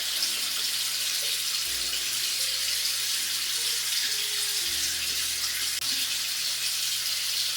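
Tap running steadily into a sink, a constant hissing rush of water that stays loud and unbroken from start to finish.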